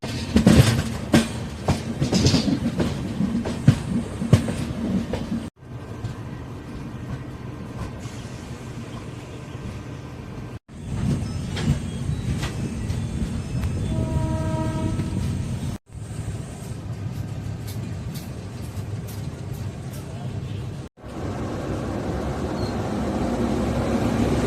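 A local train passes on a railway line near Arakkonam heading toward Chennai Central, with continuous rumbling and clattering wheel noise and a tonal horn-like blast midway, heard across several abrupt cuts.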